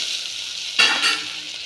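Onions and carrot pieces frying in a pan make a loud, continuous sizzle, swelling briefly as they are stirred partway through.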